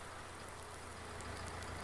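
Steady, even rain from the Farming Simulator 19 video game with Seasons, a soft continuous hiss with a low hum beneath, faint and unbroken throughout.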